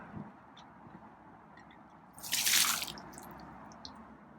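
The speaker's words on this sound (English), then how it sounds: "Okay, I'm gonna grab the water and dump it." A container of water is dumped out in one brief, splashy gush that follows a few faint drips and quiet handling sounds, then fades to a low trickle, with no speech.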